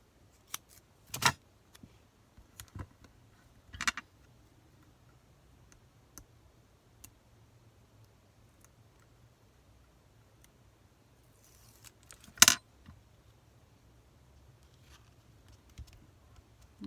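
Scissors cutting paper for a scrapbook layout, heard as a few sharp, isolated snips and clicks spread across a quiet room, with long gaps of near silence between them.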